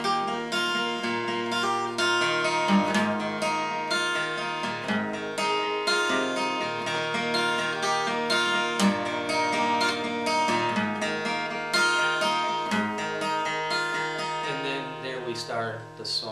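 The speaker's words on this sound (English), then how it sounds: "you can even try to do the actual intro melody" A finger-picked acoustic guitar plays the intro melody of a song, with steady plucked notes and sustained chords ringing clearly and alone at an even, moderate loudness.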